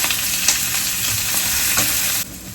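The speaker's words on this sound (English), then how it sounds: "My skillet is a medium to medium high heat and with a tablespoon of oil in there." Onions and peppers fry in a tablespoon of oil in a skillet over medium to medium-high heat, giving a steady, close crackling sizzle with faint stirring clicks, free of talk until it drops off near the end.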